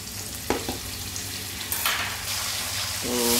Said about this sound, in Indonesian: Tuh sambil goreng buat sambal ya.